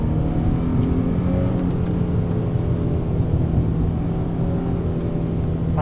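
An Infiniti G35 driven in manual mode down Old Julian Highway, its engine droning steadily and loudly from inside the cabin as it pulls through the gear with a constant rumble.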